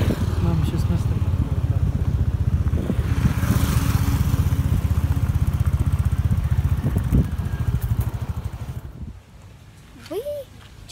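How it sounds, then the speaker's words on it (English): A motorbike engine running steadily with a low, throbbing putter, close and continuous, as a rider sets off near shops on Rarotonga, then fading to a quieter idle near the end. "getting back on the motorbike"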